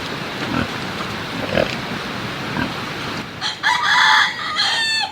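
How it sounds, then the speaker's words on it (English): Chickens cluck and a rooster crows outdoors in the hills of Rarotonga in the Cook Islands, with a pig grunting among them; the crowing rises loud and close near the end. "hear the chickens, and have a chat maybe with a pig"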